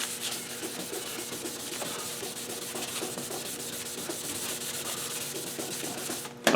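800 grit sandpaper rubs steadily across a car headlight in quick, even back-and-forth strokes, a close, soft scratchy sound that continues throughout before a brief louder knock at the end.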